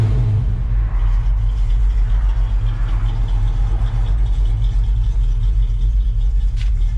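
A car engine idles steadily after starting, a low, even rumble that stays close and constant with no voices over it.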